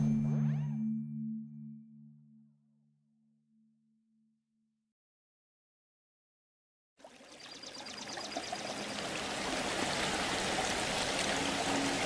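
After a fading musical tone and a few seconds of silence, a small forest stream splashes in, a steady broadband rush and trickle that holds at an even level to the end.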